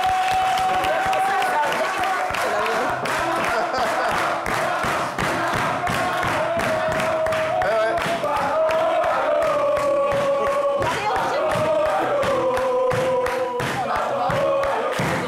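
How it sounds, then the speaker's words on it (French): Studio audience applauding contestants on a French charade game show, a dense, sustained patter of clapping with cheering that runs the whole stretch over a steady musical tone. "On peut les applaudir tous, s'il vous plaît"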